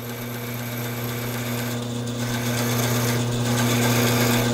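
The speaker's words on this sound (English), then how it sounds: "I'm not trying to cut my oil stone in half." An oil stone is ground against a running band saw blade in a workshop, producing a constant mechanical whine and hum with a harsh grinding hiss that grows slightly louder, steady with no voices.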